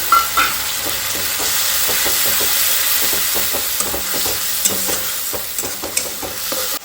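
Whole spices, onion and bay leaf fry in a pan with a steady loud sizzle, broken by the scrape and clatter of stirring close by, with no talk.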